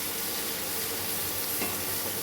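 Tarka masala spices frying in hot oil in a pan, a dense, continuous hiss of sizzling heard up close with no voices.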